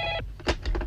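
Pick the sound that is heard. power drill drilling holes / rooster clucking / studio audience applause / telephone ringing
telephone ringing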